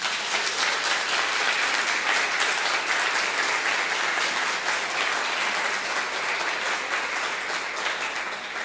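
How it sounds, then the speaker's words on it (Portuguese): Congregation applauding in a church during a Sunday service, a thick, continuous roar of clapping from many people that stays loud and even for several seconds. "Pode dar um aplauso para Jesus?"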